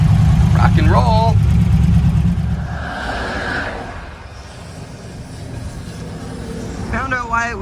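A 1932 Ford engine restarted after stalling when its battery dropped into the driveshaft, rumbling low and fairly loud at first, then easing to a quieter idle beneath other faint sounds, with chirpy tones at the start and end.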